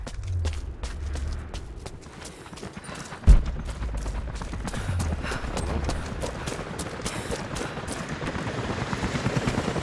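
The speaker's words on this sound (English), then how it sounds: "helicopters are headed your way." A helicopter's rotor thumps steadily in the background in the video game Rise of the Tomb Raider, with rumbling engine noise, a sharp bang midway, and a constant whooshing wash of sound throughout.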